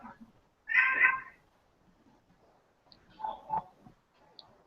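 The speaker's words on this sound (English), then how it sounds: "Sorry, that's my cat." A house cat meows indoors during an online meeting, one loud drawn-out meow near the start followed by a softer double meow a couple of seconds later, close to the microphone with no talk.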